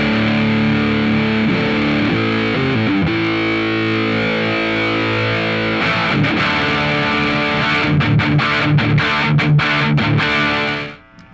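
A 2020 Gibson 70s Flying V Classic electric guitar played through distortion, loud sustained chords ringing out, then a rhythmic stretch of choppy strummed hits before an abrupt cutoff.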